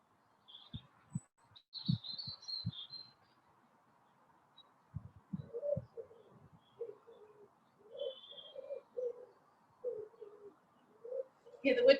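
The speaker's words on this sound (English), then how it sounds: "Here the wood pigeons" Wood pigeons coo in a quiet outdoor setting, several soft rhythmic phrases of low hooting calls repeated through the stretch, with a few faint chirps from other birds.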